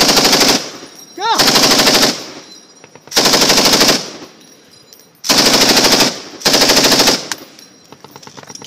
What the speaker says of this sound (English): They're shooting over here!